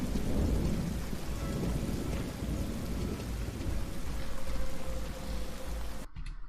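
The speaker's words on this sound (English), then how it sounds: "Not much, just some rain." Steady heavy rain with low rumbling thunder from the opening of an Andor episode, a dense continuous wash that holds for about six seconds before cutting off abruptly.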